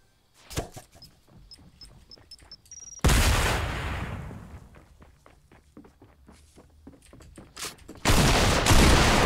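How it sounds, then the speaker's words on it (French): Pump shotgun in Fortnite firing in quick succession, two heavy blasts standing out loud and close among a rapid patter of footsteps and smaller game impacts. "c'est l'avantage hein, de ce fusil à pompe, c'est que ça tire très très vite."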